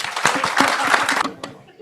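An audience at a podcast panel on AI in project management claps in a brief burst of applause that swells and then trails off, with speech mixed in.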